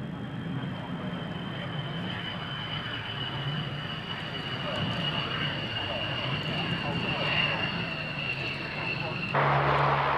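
Thunderbirds F-16 jets fly at the 1997 Mildenhall Air Fete, their engines a steady broad roar that builds slightly, heard under commentary from a public address announcer.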